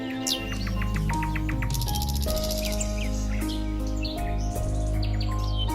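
Spring birds sing in quick chirps, trills and whistles over steady, sustained musical tones, with the song layered busily throughout.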